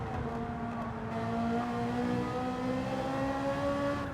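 A race car engine in Gran Turismo 7 drones loud and close as the car accelerates down a straight, its rising pitch climbing smoothly throughout, heard alone without talk.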